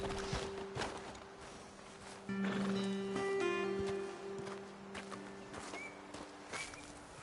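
Horses in the Red Dead Redemption 2 video game give off soft, intermittent hoof clops and faint animal snorts, set against a steady droning game soundscape with sustained tones.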